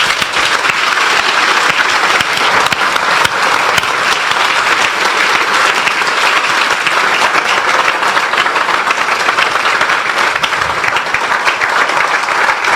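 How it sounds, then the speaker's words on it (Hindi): A church congregation claps together for the Lord after a Hindi sermon, steady dense applause filling the space for about thirteen seconds at full, even loudness without any talk over it. "आइए हम अपने प्रभु के लिए एक अच्छी ताली बजाएंगे।"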